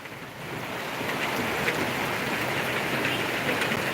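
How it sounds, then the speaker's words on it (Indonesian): Heavy rain pours down steadily during a flood in a residential housing complex in Palembang, a dense continuous roar of water with no gaps, loud and close throughout. "Hujan masih lebat."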